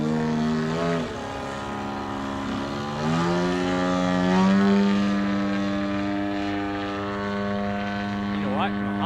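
A Pilot Edge 540 model aircraft with a DA120 gasoline engine flies overhead, its propeller drone rising and falling in pitch as it passes, while people chat nearby.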